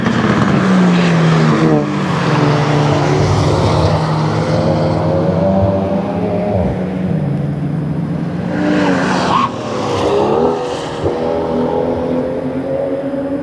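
Race cars pass on the Nürburgring during a race event, loud engine roars building and fading in turn as several cars sweep by close to the track edge, one after another.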